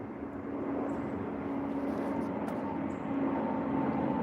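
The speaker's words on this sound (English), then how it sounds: "Here comes the noise train. 30 planes finna go by now." A steady low roar of aircraft passing overhead, swelling slightly toward the end, with a faint background drone throughout.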